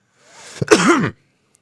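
A single wet, raspy chest cough bursts out close up, bringing up phlegm, followed by a short strained exhale, then quiet.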